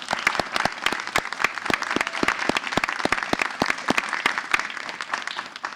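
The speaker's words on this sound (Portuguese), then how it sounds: "salva de palmas" Audience applause at a live poetry podcast recording: a sparse, fairly near crowd of hands with distinct individual claps rising and falling for several seconds.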